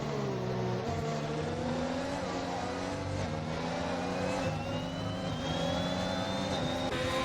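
Formula 1 cars racing at Silverstone in the F1 2021 video game, engines whining high and steady with rising pitch as they pass and accelerate, loud and continuous, with no talking.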